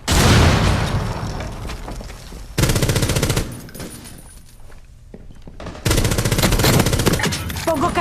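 Loud bursts of automatic gunfire and booming explosions from the Rainbow Six Mobile shooter come in separate blasts with brief quieter gaps between them, and no one speaks.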